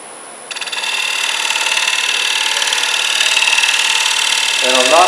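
Steady broadband scraping and whirring of a wood lathe as a scraper takes a light finishing cut, starting sharply after a brief quiet moment and continuing evenly at close range, with a faint voice near the end.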